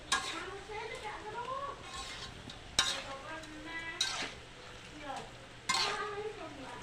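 Sambal goreng with large chillies being stir-fried in a wok, a faint continuous sizzle broken by sharp metal scrapes and clanks of a utensil against the pan every second or so, with a person talking over it.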